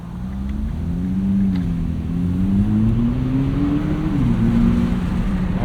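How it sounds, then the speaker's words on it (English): A 2023 Nissan GT-R, the 565 hp model, sounds its exhaust while driving with the windows down in Palm Beach, a loud, steady engine drone with small rises and dips in pitch as it moves, and no talking. "Make sure to turn our exhaust on."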